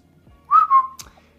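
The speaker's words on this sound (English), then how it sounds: "I suck at whistling." A person whistles a short two-note phrase, clear and close, followed by a brief click, with no talking.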